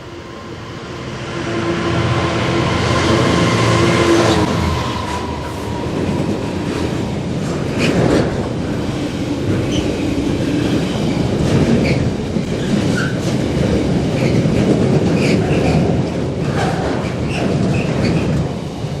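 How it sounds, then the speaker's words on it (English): A heavy freight train rumbles past at close range, steady and loud for the whole stretch, with rhythmic clatter of wheels over rail joints and occasional metallic squeals. "I'm hoping that that is our freight train."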